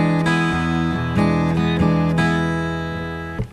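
Acoustic guitar playing a blues shuffle rhythm, loping long-short strums that ring close and clear, with nobody talking.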